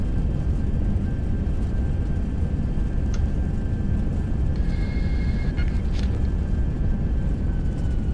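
Airbus A320-232 on its landing rollout with reverse thrust and deceleration: a loud, steady broadband engine roar fills the cabin throughout, with a faint whine and brief higher tones above it, and no talk.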